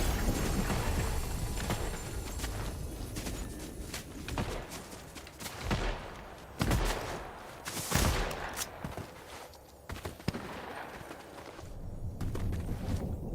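Bursts of video game gunfire crack and rattle in clusters, some shots loud and sharp, others more distant, amid footsteps and background noise.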